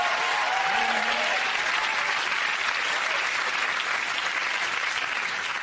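Sustained, even applause from a comedy panel show's studio audience fills the whole stretch, close and full, with a voice faintly speaking over it near the beginning.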